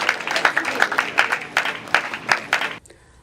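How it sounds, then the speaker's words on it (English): An event audience claps for itself in a short, ragged burst of hand claps with distinct individual strikes, lasting under three seconds before cutting to quiet. "Can we clap for ourselves?"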